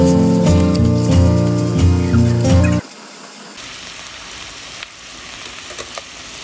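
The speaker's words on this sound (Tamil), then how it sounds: "ஸோ வெங்காயம் நல்லா வணங்கிட்டு இருக்குங்க" Onions and curry leaves sauté in a pan, a moderate even sizzle with light crackles that follows a few seconds of loud instrumental music, which cuts off abruptly.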